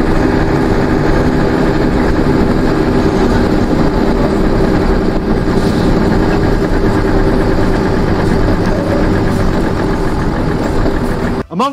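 A Marshrutka minibus engine runs steadily and loudly at close range for the whole stretch, with a low, rough, vibrating idle rumble and no pause until it cuts off abruptly at the very end.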